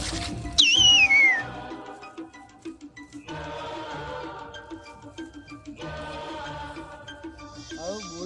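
A bird call with a hooting, owl-like quality, heard as a brief sliding whistle near the start and set against steady background music in a Gujarati comedy skit.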